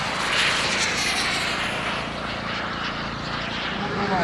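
A jet aircraft taxiing out for takeoff, its engine noise a steady broadband roar close by, with radio-style voices talking over it.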